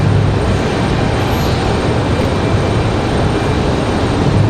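American Airlines airliner from Charlotte taking off at Raleigh-Durham International, a loud, steady broadband jet roar holding constant throughout without a break.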